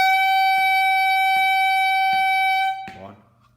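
A reed instrument holds a single loud, steady honking tone for about three seconds with soft counting clicks beneath it, then cuts off abruptly.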